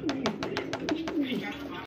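Black-less pigeons coo close by in a quick series of soft, throaty, rhythmic calls lasting about two seconds.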